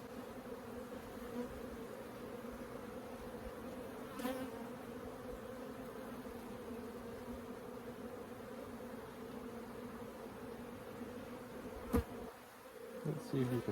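Honey bees buzz steadily around a backyard beehive, a close, continuous drone that holds at an even level, with a couple of brief clicks near the end.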